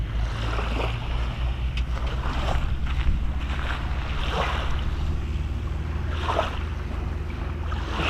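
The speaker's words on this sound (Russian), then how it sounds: "Сейчас опять мы услышим море." Sea waves washing ashore on a foggy morning near Anapa, a steady broadband rush with surges swelling every couple of seconds, mixed with low wind rumble and a faint engine hum beneath, no voices.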